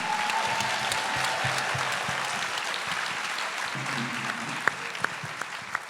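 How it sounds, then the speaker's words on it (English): An audience applauds at a gathering honoring gospel singer Marvin Sapp, a continuous, moderately loud patter of many hands with a few sharper individual claps standing out toward the end and faint low voices underneath. "Give him a round of applause."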